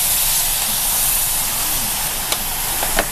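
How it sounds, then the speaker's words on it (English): A hot stone heated to about 350 degrees sizzles while cooking a Japanese hot pot, giving a steady broadband hiss throughout with a couple of brief sharper crackles near the end. "I'm going to use this hot rock to cook the hot pot"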